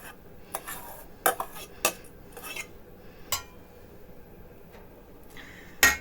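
A utensil stirs biliashi filling in a bowl, leaving quiet, sparse clinks and scrapes spaced irregularly, with a louder knock at the end.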